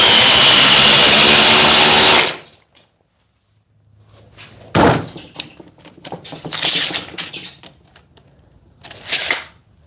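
Dewalt and other oscillating multi tools cut together in a loud, steady buzz that stops abruptly after about two seconds, followed by quiet clattering, knocks and handling noises.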